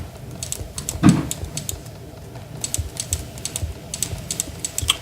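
Soft computer keyboard typing and mouse clicks with scattered key taps and a single louder thump, close by and fairly quiet, with no voices.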